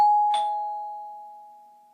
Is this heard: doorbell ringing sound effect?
yes